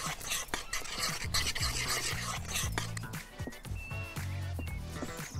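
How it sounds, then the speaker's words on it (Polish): Dough for vegan wraps is kneaded by hand, giving repeated soft rubbing and scraping strokes in an irregular rhythm, with light background music running underneath. "Pozostało już tylko dobrze zagnieść ciasto."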